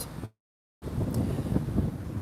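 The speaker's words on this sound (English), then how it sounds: "that's a windy, cold spot" Cold wind buffets a microphone on sand at Cleveleys with low rumbling gusts, briefly cut off by a short silence before the blustery roar returns louder.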